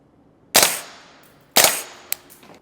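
Two sharp, loud pistol shots fired at a target about 15 yards away, roughly a second apart, each ringing out with a short decaying echo, followed by a faint metallic click.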